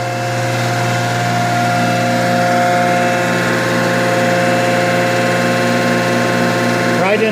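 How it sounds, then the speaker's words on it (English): Main electric motor driving a belt-driven table oil pump on a machine, a steady even hum with a constant tonal whine, running continuously without change at close range. "This starts and stops the main motor for the pump"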